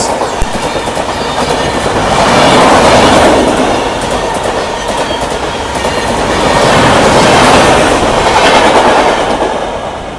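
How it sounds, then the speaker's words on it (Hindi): The Danapur–SMVT Bengaluru Sanghamitra Express rolls past at close range, a loud continuous roar of wheels with steady clickety-clack over rail joints, swelling and easing as coaches go by. "ये थी दानापुर एसएमवीटी बेंगलुरु संघमित्रा एक्सप्रेस।"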